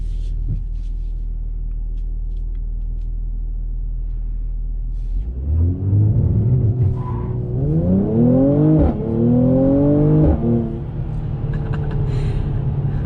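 2021 Mercedes-Benz C43 AMG launching hard with traction control off: a low idle rumble, then the engine roars through rising gears with distinct upshifts, loud from inside the cabin, settling back down at the end.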